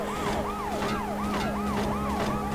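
Wailing police car siren in the PS1 video game World's Scariest Police Chases, a steady repeating up-and-down sweep that runs loud and alone through the whole stretch over a low engine hum.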